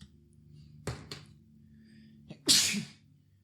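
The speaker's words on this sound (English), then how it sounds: "Excuse me, had to sneeze." A couple of soft sharp breaths, then one loud, hissing sneeze, close by in an otherwise quiet room.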